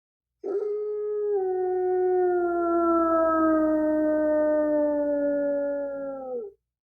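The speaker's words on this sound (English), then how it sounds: "a long, mournful, lonely howl came from the night outside the windows" A single long, mournful dog-like howl rises from outside at night, sustained and tonal for about six seconds before it drops off, carrying clearly with no voices.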